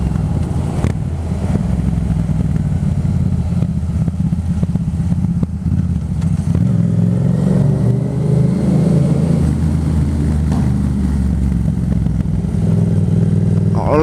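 A 2018 Yamaha MT-07 motorcycle rides along steadily, its mid-pitched engine droning loud and close, with revving shifts and rising acceleration partway through and no talk.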